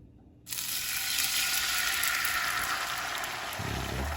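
Egg white hits a hot pan for a Brazilian crepioca breakfast, bursting into loud, steady sizzling and crackling after a brief quiet moment, continuing close and even to the end.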